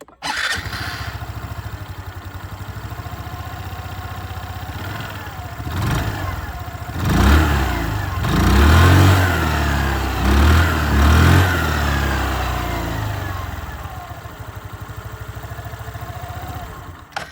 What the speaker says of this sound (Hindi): यहाँ पर जो एग्जॉस्ट साउंड है वो भी मैं आपको सुना दूँ।